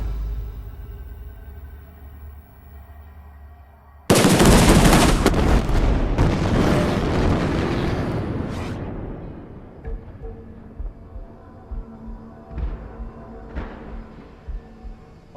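A sudden loud explosion set off after a fire-in-the-hole warning slams in after a quiet stretch, followed by a long rumbling roar and crackling debris that slowly decays into scattered thumps.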